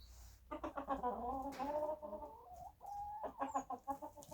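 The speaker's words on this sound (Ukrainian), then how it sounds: "Чуєте, як півень розповідає." A rooster calls out in a run of throaty, clucking vocalizations, close and fairly loud, with a brief pause midway before the calls resume.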